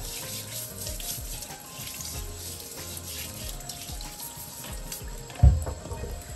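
Water runs steadily from a kitchen sink tap while big potatoes are rinsed under it, a constant close hiss with a single dull knock near the end and no speech.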